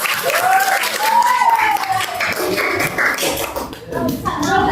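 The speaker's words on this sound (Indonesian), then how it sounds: "Oke, kasih aplaus untuk kelompok 2." Classmates in a classroom clap for a group of students, a lively patter of applause mixed with shuffling, taps and a raised voice or two, fading toward the end.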